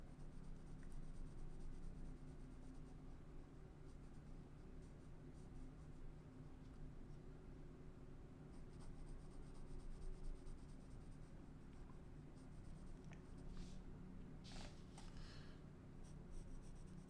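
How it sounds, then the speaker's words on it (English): Pencil sketching a sailboat figure's silhouette on paper, a steady, quiet scratching of graphite strokes that continues throughout with small pauses, no voices. "just kind of pencil in his silhouette"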